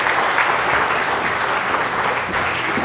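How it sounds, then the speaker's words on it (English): Audience applause at a live illusion show in Mount Pleasant, Iowa, loud and steady from many hands clapping together without a break, no voices rising above it. "Give Darnell a round of applause, everybody."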